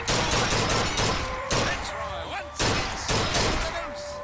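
Rapid bursts of gunfire in the BioShock Infinite video game, loud volleys of repeated shots in several clusters with ringing metallic tails, heard alone without talk.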